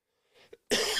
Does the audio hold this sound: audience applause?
no